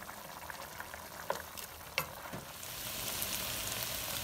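Chicken breast sizzles and fries in a pan with salt and black pepper, a steady close crackle with a few sharp pops and stirring clinks, growing a little louder toward the end.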